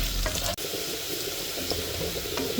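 Potatoes fry steadily in a pan, prepared for biryani or tehari, giving a continuous close, even sizzle with a soft stirring scrape near the start.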